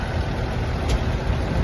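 A Fendt 930 Vario tractor engine running at an auction yard, a steady low idling rumble heard close and unbroken for a short moment, with no talking.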